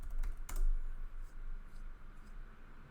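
Quick keystrokes on a computer keyboard as a command is typed into a Linux terminal, a few close clicks with a sharper tap near the start, then lighter scattered presses.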